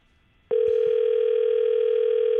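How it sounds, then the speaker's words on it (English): A landline telephone dial tone, a loud steady continuous hum that starts abruptly after a brief quiet moment, with a faint click or two at its onset. "Calling the home phone for beautiful landline clarity."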